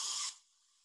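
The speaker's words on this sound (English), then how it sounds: "Give it a bit of a spray." A spray bottle gives one short, bright spritz of water onto a seascape painting, a crisp hiss that cuts off quickly, close and alone.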